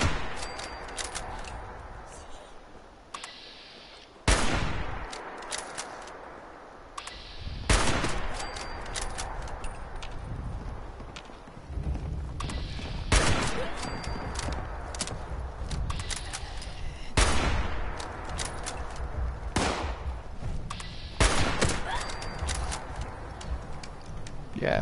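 Gunfire in the video game Fallout 76: sharp, loud shots spaced a few seconds apart, each with a short decaying tail, over ongoing background game noise.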